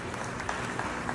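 Audience applause for Professor Dhirendra Thakur, a lecturer on Shivaji, at a lecture in Panvel: a brief, even wash of many hands clapping, moderately loud and dense, with no voices over it.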